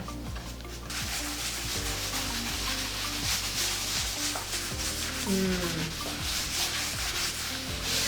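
Wax coat on a painted gallery wall piece being burnished, continuous brisk rubbing and buffing strokes, close and fairly loud throughout with no talking.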